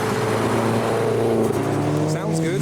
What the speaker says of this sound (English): There's a yellow Subaru.